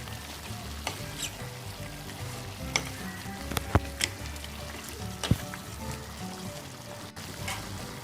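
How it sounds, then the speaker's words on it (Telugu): Village-style Rayalaseema chicken curry with turmeric and salt fries loudly over a high flame, with a dense sizzle and repeated sharp clacks and scrapes of stirring throughout. "ఇలా పసుపు ఉప్పు వేసుకొని కలుపుకున్నాక హై ఫ్లేమ్లో అండి 5 మినిట్స్ హై ఫ్లేమ్లో ఉడికించుకోవాలి"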